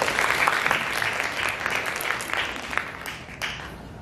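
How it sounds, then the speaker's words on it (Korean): Audience clapping at a Korean art and design class review event as a professor is welcomed, a steady, moderate round of applause that thins slightly toward the end. "박수 부탁드립니다."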